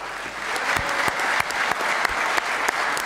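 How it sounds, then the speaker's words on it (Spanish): Lawmakers in a parliament chamber applaud a national rugby team, Los Cóndores, a sustained, even roar of clapping from a large room with occasional sharper knocks and thumps cutting through. "un aplauso a ustedes"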